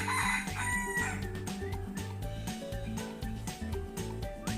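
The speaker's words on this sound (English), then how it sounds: "It is a rooster that is going to the farm." A rooster crowing on a farm, its calls set against a loud, steady musical backing with a rhythmic beat that carries through the whole stretch.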